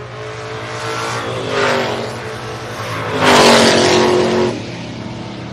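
Race cars, a Mustang among them, roar past at Mason-Dixon: a steady engine drone swells as one car passes, then a louder, closer car sweeps by before fading.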